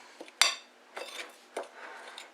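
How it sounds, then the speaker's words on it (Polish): A fork mixing spelt-flour tortilla ingredients in a bowl, a few sharp metal clinks and scrapes against the dish, close and quiet, spaced out over a couple of seconds with no talk. "Potrzebujemy widelca. Mieszamy wszystko."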